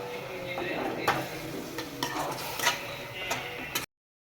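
Spice masala with a little added water simmers in a pan for a dried Bombay duck chutney, giving a soft steady sizzle with occasional sharp stirring clinks and scrapes, close and continuous.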